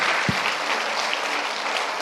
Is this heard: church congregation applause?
yes